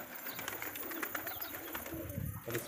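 Pigeons fly into their loft, soft cooing and rustling wing flutters over a busy background, with a short louder burst of flapping near the end.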